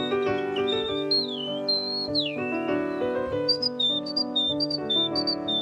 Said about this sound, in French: Et là, c'est une bergeronnette perdue qu'on entend.